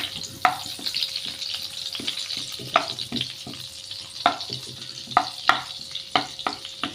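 Butter melting in a pan gives off a steady sizzle, close up, with repeated sharp spatula scrapes and taps at irregular intervals and no talking.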